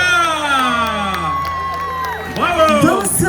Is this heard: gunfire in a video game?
no